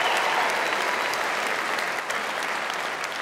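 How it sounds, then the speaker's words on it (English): A large concert hall audience at Belfast's Waterfront Hall applauds continuously, a dense, even wash of clapping from many hands with no pauses throughout. "Give yourselves a massive round of applause as well."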